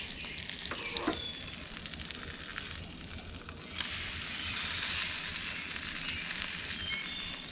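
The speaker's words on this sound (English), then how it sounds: "it's time to flip that sausage" Maple-flavored breakfast sausage sizzling loudly in a hot pan at a truck campsite, with a clatter as the links are flipped and the frying hiss swelling afterward.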